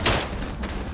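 Gunfire in the World War I video game Verdun, a loud close burst of shots followed by a dense crackling rattle of distant rifle and machine-gun fire, with no speech.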